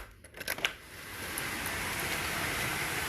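Hurricane Isaias rain pours down in a steady, dense hiss that builds after a few brief rustling knocks and then holds level and loud.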